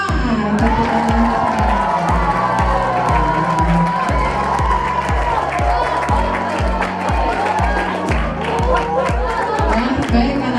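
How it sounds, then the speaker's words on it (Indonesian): Madrasah students at a school orientation session clap and cheer loudly in a large room, with rhythmic group clapping, shouts and whoops, and voices mixed through the noise. "Tepuk tangan."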